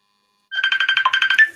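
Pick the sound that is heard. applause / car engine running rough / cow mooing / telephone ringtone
telephone ringtone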